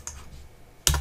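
Two brisk keystrokes on a computer keyboard, a faint tap followed by a louder, sharper clack nearly a second later, close and isolated with no talk.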